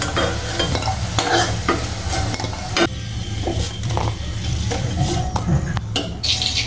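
Potatoes frying in hot oil in a pan, being stirred and lifted out, with a steady broad sizzle and scattered scraping and clinking from a utensil against the pan throughout.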